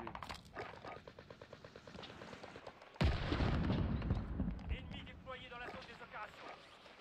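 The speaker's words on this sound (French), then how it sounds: "Oh, tout le monde me tire dessus là" Gunfire in a battle royale video game: bursts of rapid shots with a sudden loud boom midway, the firing mixed with game sounds and someone talking over the action.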